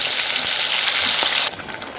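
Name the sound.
chicken frying with ginger garlic onion paste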